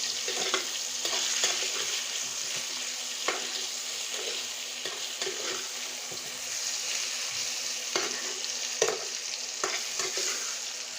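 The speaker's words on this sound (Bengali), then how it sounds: "অল্প পরিমাণ হলুদ দিয়ে দিচ্ছি আর দিয়ে দিচ্ছি লঙ্কা গুঁড়ো এখন আমি সুন্দর করে নেড়ে দিচ্ছি" Turmeric and chili powder stirred into potatoes frying in a pan for a chicken curry, a steady close sizzle with scraping stir strokes at irregular intervals and no talk.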